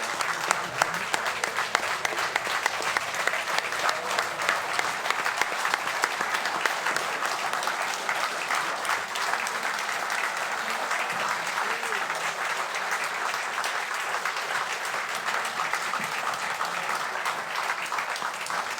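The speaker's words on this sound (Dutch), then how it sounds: "nog eens een hartelijk applaus." Sustained, even applause from a theatre audience at the close of a Dutch miners' revue, a long steady patter of many hands heard from some distance and fairly soft, with faint voices mixed underneath.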